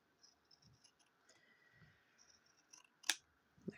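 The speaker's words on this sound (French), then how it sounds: "Je vais couper ici ce qui dépasse." Scissors snip a few quiet, sharp cuts through excess paper on a scrapbooking card made from postcards, with soft handling noises between the cuts and no speech.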